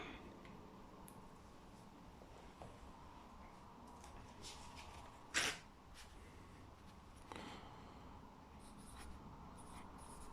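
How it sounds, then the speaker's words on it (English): Pen writing on paper in a quiet card store setting, a faint, close scratching that runs steadily, with one sharper tap or stroke midway and a few light marks after it. "one moment and I'll just write that down."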